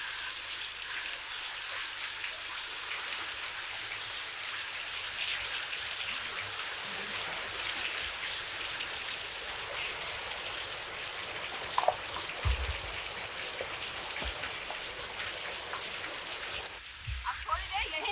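Heavy rain pouring steadily in an Indian village drama scene, a dense hiss of rainfall throughout with a faint rumble partway through and brief voices near the end.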